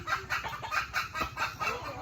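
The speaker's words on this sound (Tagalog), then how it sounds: "nangingitlog yung mga manok namin dito" Hens cluck in a rural coop while laying eggs, a steady run of short, repeated clucks at close range with no talking.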